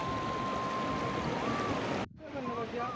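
River water rushing through steep mountain terrain, a steady broadband roar that cuts out abruptly for an instant before resuming at a lower level.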